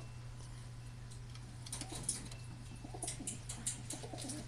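Pet birds at home cooing softly, with a few faint, scattered calls and chirps over a steady low electrical hum, fairly quiet and without talk.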